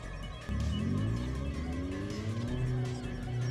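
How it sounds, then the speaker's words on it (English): Powerful car engine roars loudly in an underground setting in the video game Steins;Gate 0, its pitch climbing steadily as it revs, with a brief tire squeal and no speech. "The sound of a powerful engine shook the underground air."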